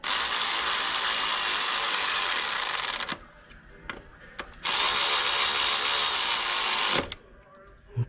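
Power tool whirring in two sustained bursts while tightening a connector on a 2004 Nissan Sentra engine, loud and close, with quiet mechanical clicks between runs.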